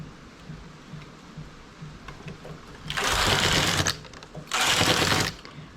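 A knitting machine carriage slides across the needle bed over the stitches in two loud rasping passes, each about a second long, following a quieter stretch of faint rustling and clicks.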